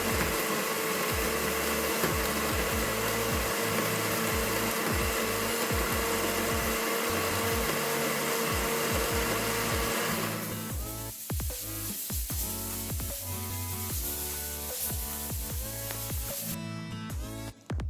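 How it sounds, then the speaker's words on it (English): A blender whirs loudly and steadily, blending a marinade to pour over chicken for barbefry chicken, with the motor pitch shifting partway through as the contents thin out; no talk is heard. "So I'm just blending these to just pour over my chicken."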